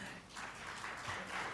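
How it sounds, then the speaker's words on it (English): An audience applauds at a corporate advertising report launch event, a faint, steady wash of clapping heard from a distance with no voices over it. "Ladies and gentlemen, a warm, warm round of applause."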